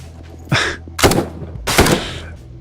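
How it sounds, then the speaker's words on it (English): Three loud, close gunshots ring out at roughly half-second intervals in the tactical shooter game Ground Branch, each a sharp crack with a brief echoing tail. "Yes, I can shoot them in the legs."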